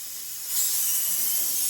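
Pressure cooker on the stove hissing steam, a continuous bright airy hiss that swells slightly about halfway through and holds steady, fairly quiet and alone.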